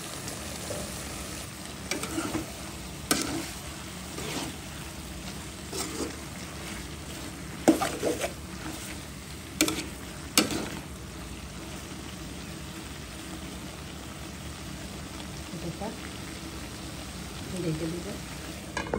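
Eggplant and dried mola fish curry fries quietly in a pan, a soft low sizzle broken by scattered sharp scrapes and clicks of stirring.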